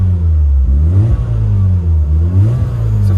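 Mazda RX-7 FC3S rotary engine revving through its exhaust, a loud, close, low drone that swells and dips in a few quick blips over a steady idle.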